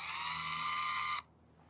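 Power drill with a damaged, badly messed-up bit, spinning with a loud, harsh high-pitched whir that cuts off abruptly after about a second, leaving only faint room noise.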